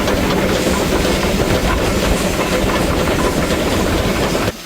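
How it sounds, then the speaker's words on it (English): A loud, continuous rumble of a 120-ton, eight-cylinder steam locomotive climbing a mountain railway, with rhythmic chuffing and rattling wheels, close by and sustained throughout, cutting off abruptly at the end. "That's 120 tons of thrashing steel, 8 cylinders and 40 wheels, 24 of them coupled."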